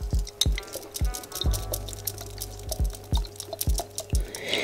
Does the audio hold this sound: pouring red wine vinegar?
yes